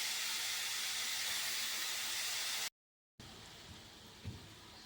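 Grated white radish fries in a pan with a steady, close, broadband sizzle. The sound cuts out for a moment, then returns quieter with a few soft bumps.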